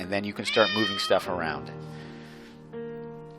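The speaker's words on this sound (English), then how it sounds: "Sorry, that was the cat." A cat meows loudly a few times close by, drawn-out harmonic calls that ring over a person speaking, in a home office setting.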